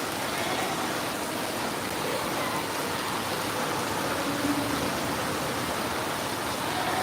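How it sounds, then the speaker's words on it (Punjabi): Steady downpour pours in an unbroken wash of hissing rain on surfaces nearby, even in loudness throughout and without any talking. "ਮੀਂਹ ਪੈ ਰਿਹਾ"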